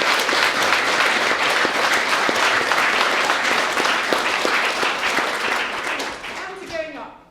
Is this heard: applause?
yes